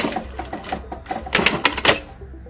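A sewing machine stitches a vintage robe in quick bursts of rapid mechanical clatter, speeding up into a louder run before stopping.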